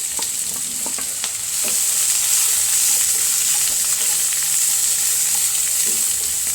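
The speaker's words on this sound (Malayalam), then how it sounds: "പിന്നെ നല്ല ക്യാരറ്റ് ക്യാരറ്റ് കൂടിയിട്ട് നന്നായിട്ട് വഴക്കിയെടുക്കണം" Carrots and green chillies stir-fried in a pan, a steady close sizzle with occasional scraping stirs and faint clicks, with no voices.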